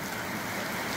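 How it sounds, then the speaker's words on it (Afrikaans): A dense, constant wash of downpour in the Bushveld near Ellisras, loud and even throughout the short stretch. "En dit reën net al hoe harder."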